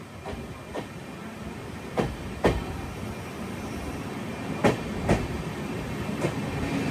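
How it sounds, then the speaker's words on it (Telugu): From inside a coach, the Kamrup Express pulls away, a steady rolling rumble broken by sharp clickety-clack wheel knocks over rail joints at uneven intervals. "ఆ బండి ఆగింది, మన బండి బయలుదేరింది"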